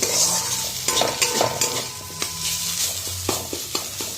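Beans, eggplant and greens sizzle steadily in a hot wok with little oil while a utensil scrapes and stirs with irregular clacks, close up and alone.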